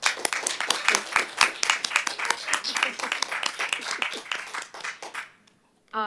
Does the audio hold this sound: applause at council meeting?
yes